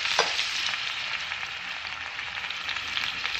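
Sliced onion, curry leaves and salt fry and get stirred in a pan for a quick tomato chutney, a steady close sizzling hiss with soft scraping movements throughout and no talk.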